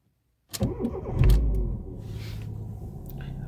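Silence, then a car engine cranks and catches, revving briefly before settling into a steady idle rumble.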